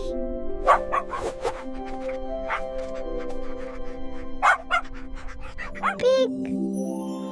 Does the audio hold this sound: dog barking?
yes